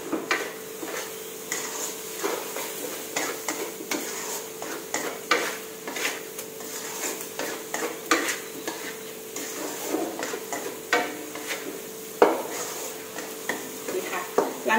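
Minced pork and long beans are stir-fried in a pan with a little fish sauce. A spatula scrapes and clinks against the metal in a steady rhythm of close strokes over a soft, continuous sizzle.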